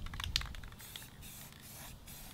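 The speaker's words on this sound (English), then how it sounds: "Typically these spray cans are an oil-based paint" An oil-based spray paint can hisses onto household furniture in a steady, quiet spray lasting a couple of seconds, with faint clicks near the start.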